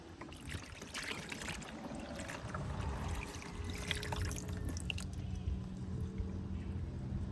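Old, dirty coolant drained from a 1990-1995 Toyota 4Runner or Tacoma pours out in a steady, continuous splashing trickle that runs close by without pause and builds slightly in strength midway.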